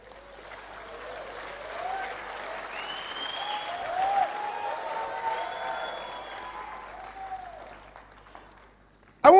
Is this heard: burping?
no